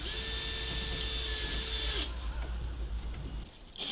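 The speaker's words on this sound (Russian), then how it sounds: "Сейчас осталось нам только закрутить сбоку винтики и все." A power tool drives screws into the side of a panel on a Magirus 4x4 chassis being converted into a motorhome, a steady whining drone for about two seconds, then a quieter buzzing hum that cuts off.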